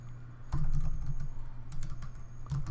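Keys on a computer keyboard tapped in two short bursts while a folder name is typed, close and clear over a low steady hum.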